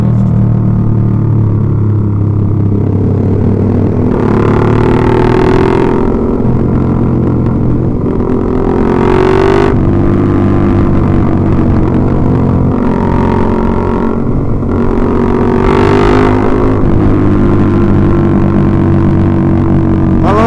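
A motorcycle engine with a two-hole exhaust drones loudly and steadily for a long stretch with a low, rough exhaust rumble, swelling with occasional revs.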